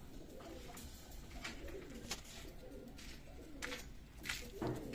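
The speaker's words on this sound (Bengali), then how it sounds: "চমৎকার ব্লাড লাইনের কবুতর।" Pedigree pigeons kept for sale, including Pakistani teddy and black Saharanpuri types, cooing softly and repeatedly at close range in a faint, airy coop with no talking.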